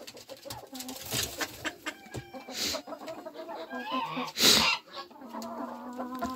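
Several hens and a rooster cluck and murmur nearby in an uneven chatter, with a louder squawk or flutter partway through.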